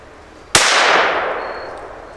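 A single sharp .22 Magnum rifle shot cracks out in a hunting simulator game aimed at a beaver, a loud sudden report followed by a long fading tail of reverberation.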